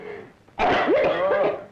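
A person in a Malayalam film scene gives a sudden, harsh cough burst that breaks off a quieter stretch, close and fairly loud.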